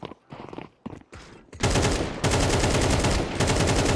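Sustained automatic rifle fire from an AK in a competitive video game match, loud and dense with rapid overlapping shots running almost continuously after a short stretch of quieter footsteps and movement.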